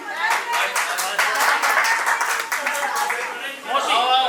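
Clapping from a small gathering at a bird hospital in Jaipur, a loud burst of overlapping hand claps close by, with voices and chatter mixed in among the claps.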